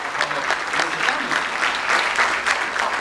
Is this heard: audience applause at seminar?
yes